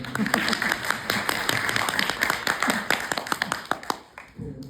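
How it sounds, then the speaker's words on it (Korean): A sustained round of audience applause at a film talk event, dense and lively, tapering off at the end, with a voice briefly audible underneath. "언니 유정이가 박수 한번"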